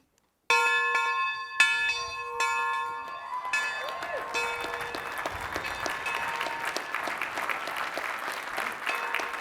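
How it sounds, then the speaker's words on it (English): A ceremonial bell rings at a Lehigh University spring commencement, several resonant strikes that ring out and blend into sustained applause and cheering from a large outdoor crowd. "will now ring the bell."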